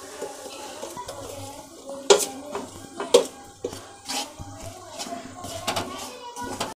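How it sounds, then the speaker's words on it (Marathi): A spoon scrapes and clinks against a pot as chili powder masala is stirred into garlic for amla pickle. The stirring comes in irregular, repeated knocks and scrapes close by, with a faint sizzle underneath. "हे बघा, हे छान आता मी मिक्स करून घेते"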